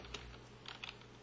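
A few light keystrokes on a computer keyboard, faint and close, a quick scattered cluster of soft clicks against a low steady hum.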